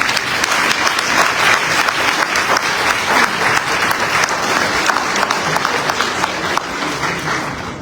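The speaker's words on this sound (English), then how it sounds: "Please stand and let us give them a round of applause." Sustained, loud applause from a large crowd at a graduation ceremony, dense steady clapping honoring graduates of a refresh and orientation program, continuing throughout without letup.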